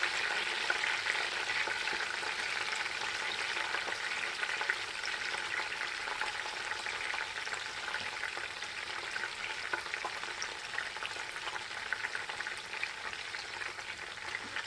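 Whole spices, mint and coriander sizzle in hot oil while being stirred for a prawn biryani, a dense, continuous crackling hiss up close, with occasional scrapes of the spoon and no voices.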